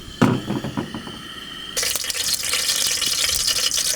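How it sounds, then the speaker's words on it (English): A brief clatter of kitchenware, then water gushes steadily from a tap into a pot, a continuous bright rush that fills the rest of the clip. "I'm gonna put some fresh water into this one over here."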